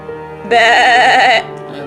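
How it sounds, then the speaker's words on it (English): A single loud, drawn-out goat bleat indoors in a house, wavering and nasal, lasting about a second after a quiet start and fading back to low room noise. "goats in my house"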